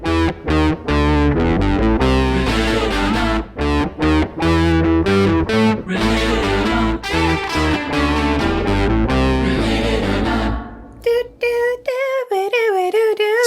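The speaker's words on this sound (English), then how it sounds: "So much distortion. Just all the distortion. It's like they ran it through a distorter" Heavily distorted theme song plays loud and continuous, its harmonic layers crushed and buzzing, thinning into a sparser melodic line near the end.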